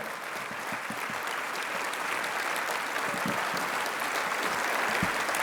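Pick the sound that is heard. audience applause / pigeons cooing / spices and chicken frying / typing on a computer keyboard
audience applause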